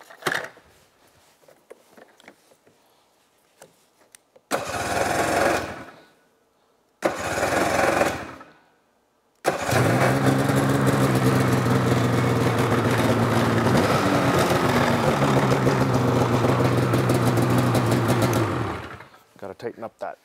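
A Polaris Khaos snowmobile fitted with a Jaws trail can cranks in two short bursts, then fires and runs at a loud, raspy two-stroke idle for about ten seconds before cutting off, with quiet handling noises before it.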